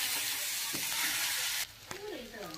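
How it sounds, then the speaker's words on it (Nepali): Ginger garlic paste frying in hot oil in a pan, a loud steady sizzle with spoon stirring scrapes that drops sharply partway through, leaving a softer hiss and clinks. "अदुवा लसुनको पेस्ट यो पनि यसैमा फ्राई।"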